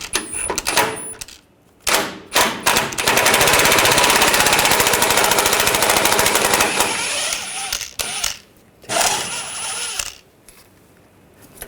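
A 10mm socket on a ratchet or impact tool removes sway bar bolts on a 2014-2018 GMC Sierra 1500, giving loud bursts of rapid mechanical rattling, one sustained run of several seconds, with short clicks and pauses in between.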